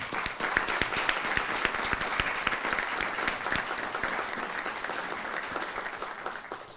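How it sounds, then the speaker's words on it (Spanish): Steady, dense applause from a crowd of judges and magistrates honoring a Mexican Supreme Court justice, loud and continuous throughout, with many hands clapping at once and no pauses. "Nuevamente pido un aplauso para él, por favor."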